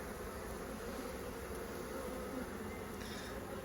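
Honey bees humming steadily around an open hive during an apiary inspection, a faint continuous buzz of many insects without talk.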